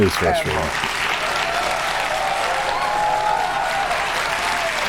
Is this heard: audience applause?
yes